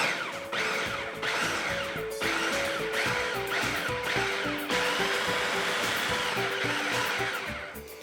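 A food processor pulses peppers, paprika, garlic and salt into a paste in a run of short, loud whirring bursts with brief gaps between them.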